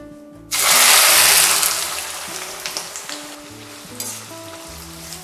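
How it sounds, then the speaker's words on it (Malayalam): Thin round slices of ginger dropped into hot oil for ginger curry, a sudden loud sizzle that settles into steady frying crackle with occasional stirring clinks, no talk. "അപ്പോൾ ഇത് നമുക്ക് നന്നായിട്ട് വറുത്തെടുക്കണം."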